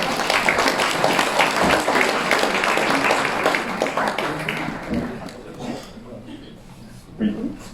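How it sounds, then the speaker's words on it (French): An audience at a town's New Year's greetings ceremony claps loudly for several seconds, and the applause thins and fades away. Voices and a few scattered claps carry on after it. "Merci, on peut les applaudir."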